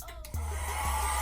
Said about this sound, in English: This mini dryer BOXYCHARM me la mandó, and this is the first time I'm even using it, and it hella works